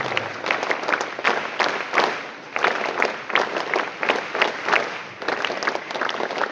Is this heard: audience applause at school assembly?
yes